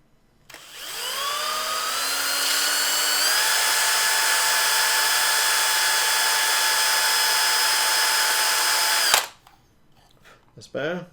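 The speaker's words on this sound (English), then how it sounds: "So I'm just going to quickly drill that out." A power drill whines steadily for about nine seconds while boring out the motor mount holes on an Eachine Micro Skyhunter foam FPV plane, loud and close, rising in pitch as it spins up, then stops abruptly, followed by faint handling noise.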